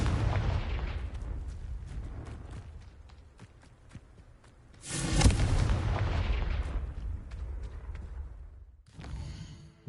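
The Confringo explosion spell goes off in the Hogwarts Legacy video game as a loud, dense burst of rumbling blasts, swelling to a heavy boom midway before fading and giving way to a short, clattering tail.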